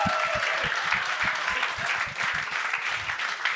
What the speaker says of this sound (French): Mais on va l'applaudir tout de suite